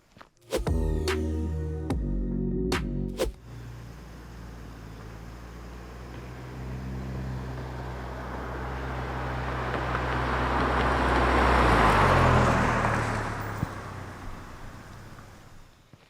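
A vehicle passes by, its broad rumble swelling to a peak and then fading away, with a steady low road noise underneath and no voices.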